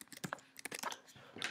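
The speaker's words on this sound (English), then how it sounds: "So I'm going to type that into my calculator." Quick taps of number keys on a calculator while working out a Lucas-Lehmer primality step, a dozen or so light clicks in an uneven run, close and fairly quiet.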